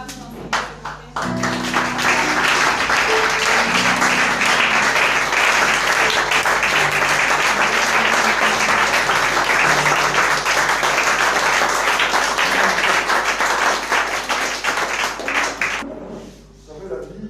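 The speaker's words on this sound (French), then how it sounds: "Acclamez pour notre Papa qui va nous enseigner ce matin." Loud, sustained applause from a church congregation, many hands clapping steadily for about fifteen seconds over a low musical drone, then fading out, with voices audible beneath.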